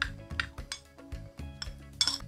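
A spoon clinks and scrapes against a bowl while stirring breadcrumbs mixed with red pepper, cumin, black pepper, turmeric and thyme, in a quick irregular series of light metallic taps.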